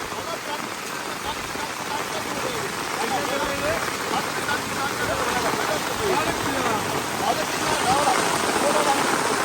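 Heavy rain falls steadily during flooding, making a dense, continuous hiss and patter that stays loud and close throughout, with faint voices beneath it.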